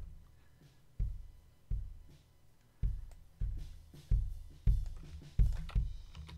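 A deep, round kick drum thumps steadily in a repeating pattern, its low booms soft and without much attack, no other instruments prominent.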